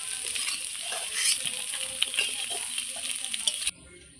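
Taro pieces seasoned with salt and turmeric sizzle and crackle in hot oil, a loud, close, continuous frying hiss that cuts off abruptly near the end.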